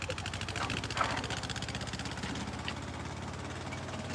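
A tractor engine, just started after trouble, idles close by with a steady, low, rhythmic chugging that holds evenly throughout.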